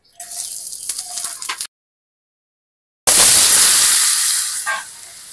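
Dried red chillies and whole cumin seeds hit hot oil in a pan, giving a loud, steady hiss and crackle that fades gradually, after a short burst of earlier sizzling and a pause of silence.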